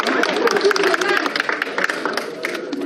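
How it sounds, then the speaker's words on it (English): Crowd of cheering supporters welcoming a returning politician off a plane, clapping in a dense steady patter that blends with voices and crowd noise throughout. "Let's clap for that"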